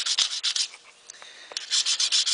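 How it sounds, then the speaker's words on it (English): A hand file working a high spot on stainless steel during buffing prep, giving repeated raspy scraping strokes in two bursts with a brief pause between, close and fairly loud with no talking. "So I'm going to bring that high spot down just by filing"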